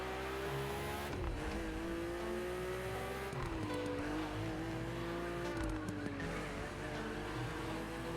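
A BMW race car on a racetrack in The Crew Motorfest roars continuously with a loud, close engine, shifting pitch as it accelerates and changes gears, with brief tire squeal mixed in.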